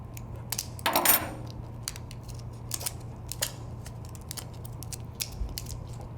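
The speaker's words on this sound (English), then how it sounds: "you're going to cut that down as low as you can get that shield off" Cutters snipping away the shield of a shielded cable at a high density jack termination, a few sharp clicks and one louder crunching cut spread through quiet, close-up workbench handling.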